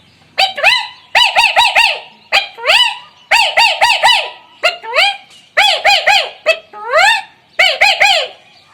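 A man mimics a caged parrot with his voice, giving loud repeated bursts of squawking, chattering calls in rhythmic clusters separated by short pauses.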